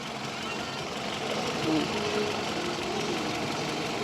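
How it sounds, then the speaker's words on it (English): Toyota Camry with a 2AZ engine idling smoothly after an oil-burning and timing repair, a steady low hum with a faint even tick, heard close and fairly quiet throughout. "you can see how quiet this engine is running"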